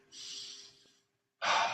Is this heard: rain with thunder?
no